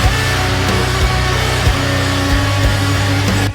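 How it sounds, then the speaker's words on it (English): Chaotic, noisy, broken-sounding distorted guitar lead, layered over a heavy punishing rhythm section, dense and loud throughout with a thick low end and no pauses. "we recorded like a really chaotic and noisy and broken sounding lead on top of it"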